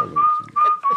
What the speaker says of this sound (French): Il continue à siffler l'autre